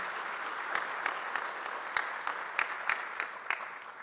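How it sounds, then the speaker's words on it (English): An audience at a gubernatorial candidate forum claps steadily, a dense patter of many hands with a few sharper claps standing out, sustained throughout. "Please give them a round of applause."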